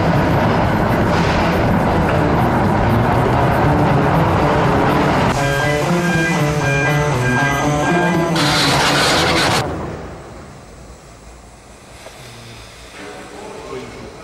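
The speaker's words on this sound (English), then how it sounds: "rocket train will launch in the mountain immediately" A roller coaster rocket train launches on Space Mountain in Paris: a loud rumbling rush builds with rhythmic mechanical clatter and a sharp hissing burst, then drops away into quieter distant noise.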